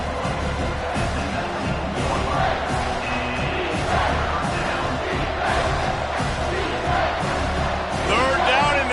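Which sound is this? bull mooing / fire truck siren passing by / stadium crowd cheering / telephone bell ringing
stadium crowd cheering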